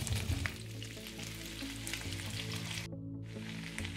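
Potatoes sizzle and fry steadily in hot butter in a pan, a dense close crackle that keeps going throughout and drops out only for a brief moment near the end.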